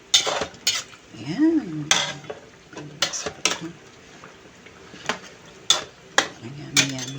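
Carrots go into a pot of chicken curry and are stirred, with sharp clinks and scrapes of a utensil against the metal pot in irregular bursts, close up, while a voice speaks briefly.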